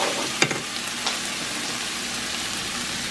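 A steady loud sizzle of ketchup, hot sauce and tomato paste frying in a pan, with a couple of brief utensil taps early on, and no voices over it.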